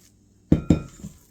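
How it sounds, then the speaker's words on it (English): A spoon stirring carrot cake batter knocks twice against the bowl in two sharp, close clinks, followed by a soft scrape as the mixing fades. "So just give them a good stir."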